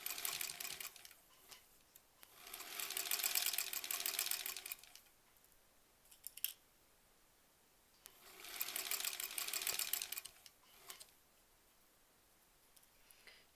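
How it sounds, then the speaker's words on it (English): A sewing machine chunks through thick, layered fabric seams on a quilt block in two sustained runs of rapid stitching, separated by quiet pauses with scattered clicks. "You can hear it chunking through all that fabric."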